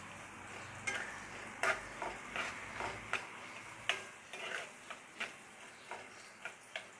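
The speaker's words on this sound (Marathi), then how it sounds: "कांदा लालसर होईपर्यंत भाजून घेऊ आपण" Finely chopped onion frying over a medium flame for pav bhaji, a soft background sizzle broken by a dozen crisp spatula taps and scrapes against the pan at irregular intervals, close and without talk.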